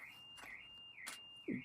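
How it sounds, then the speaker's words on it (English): A car alarm goes off outside, a faint electronic tone that warbles and slides in pitch, cut with short bursts and a brief low blip at the end. "Oh, someone's car alarm."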